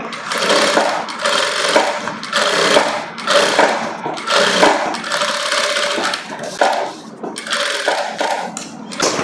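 An electric sewing machine stitches a blouse lining in fast, loud whirring bursts that start and stop repeatedly, with short pauses between runs.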